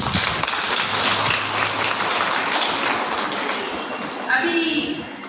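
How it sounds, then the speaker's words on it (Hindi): Loud audience clapping after a musical performance at a parish music program, a dense steady wash of many hands with some voices mixed in, easing slightly near the end. "सुंदर प्रस्तुति के लिए जोरदार ताली हो जाए।"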